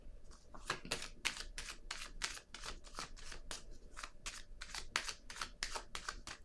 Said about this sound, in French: Là, je vais déposer une carte ici.